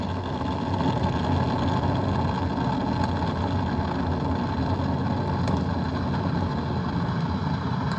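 Artemis 1 launch on a Space Launch System rocket, its four RS-25 core-stage engines and two solid rocket boosters firing together: a steady, loud, broadband roar heard from a distance, rumbling without break throughout.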